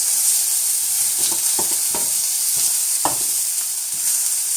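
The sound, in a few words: zucchini and vegetables sizzling as flipped on grill pan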